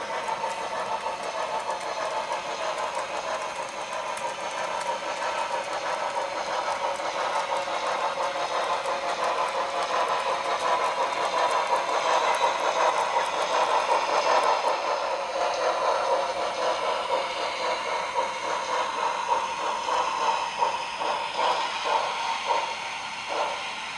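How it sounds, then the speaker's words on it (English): HO scale Pennsylvania Railroad steam model trains running, a local freight waiting on a siding as another train passes: a continuous mechanical hum and rolling rattle, swelling toward the middle as the passing train nears, with rhythmic clicking over rail joints later on. "8014 and the local freight take a siding and wait for another train to pass."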